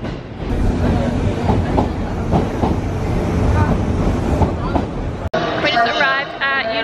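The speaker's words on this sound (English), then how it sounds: "gonna get on the train now" Train ride toward Universal City Station in Japan: steady rumbling rail noise with rhythmic clatter from the cars, close and loud, with people talking nearby, before a sudden cut to quieter sound with a voice.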